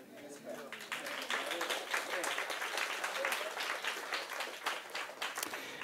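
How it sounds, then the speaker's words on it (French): A church congregation claps together, rhythmic rounds of applause mixed with voices and a speaker talking over the clapping. "tu ne pèches pas quand tu applaudis"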